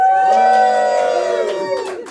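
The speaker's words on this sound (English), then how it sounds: "once again the crowd went absolutely insane" Comedy club crowd cheers and whoops loudly at the start of a main event show, with bright shouted voices and scattered claps trailing off over two seconds.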